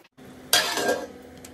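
A lid is set onto a pan of egg curry with a single close metallic clank that rings briefly, then fades into a soft kitchen background.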